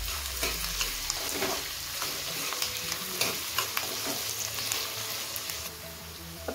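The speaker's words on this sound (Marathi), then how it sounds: "आता गॅसची फ्लेम मी हाय करते आणि याला आपण छान फ्राय" Two large chopped onions fry on a high flame, with a steady close sizzle and frequent scraping stirs and clicks of a spatula against the pan.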